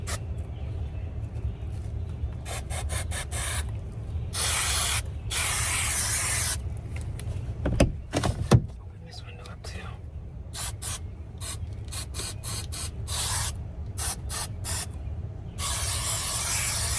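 Repeated spray bursts from a can inside a 1997 Chevy Astro van being built out, each hiss lasting a second or two in an irregular rhythm, close and fairly loud, with brief knocking around the middle and no talk.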